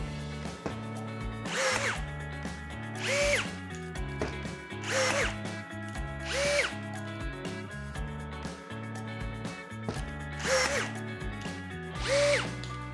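A Procraft PRG20 cordless rivet gun sets 4 mm rivets in repeated cycles, each a whirring motor run ending in a sharp snap, about every one and a half seconds, close and loud with no voices.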